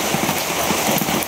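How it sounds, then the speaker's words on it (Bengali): Rain pours down in a sudden pre-dawn storm, a loud, dense and continuous wash of drops close by with no voices over it. "3টা থেকে বৃষ্টি শুরু হয়েছে।"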